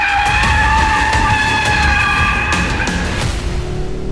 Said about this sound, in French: le comportement dynamique permet en effet de créer quelques dérives